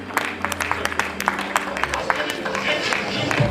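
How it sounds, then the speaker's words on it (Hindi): Applause from an audience at the Hindustan Ratna Awards 2024 ceremony as an award goes to a screenwriter and film director: dense, sustained clapping with crowd noise at moderate loudness across the clip. "जोरदार तालियां हो जाए दोस्तों."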